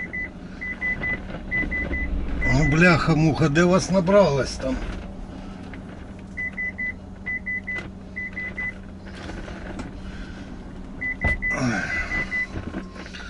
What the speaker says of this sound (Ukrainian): Ти там пікаєш.